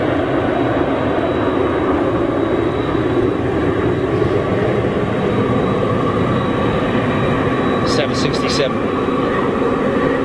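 Jet engines of an American Airlines Boeing 767, likely Pratt & Whitney powered, heard at Manchester Airport as a steady, loud broadband roar that holds for the whole stretch, with a few brief higher chirps near the end.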